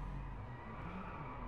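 Braking in an Alfa Romeo 4C in the DriveClub racing game on a Trotternish, Scotland road brings a dense, steady engine and tyre roar lasting under two seconds, with no voices.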